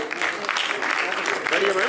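Audience clapping at an Uttar Pradesh farming science event, a dense continuous patter of many hands lasting briefly, with speech audible over it.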